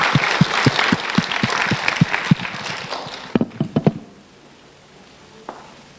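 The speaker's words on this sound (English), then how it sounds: "Please give a warm round of applause to Nicole Chow for receiving the CYC award." Warm audience applause for an award recipient at a youth competition and award ceremony in Toronto: steady, dense clapping for about three seconds, then a few louder, slower claps that die away into quiet room tone.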